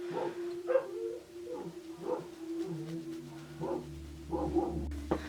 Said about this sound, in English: Sorry for the barking. I've got very loud dogs.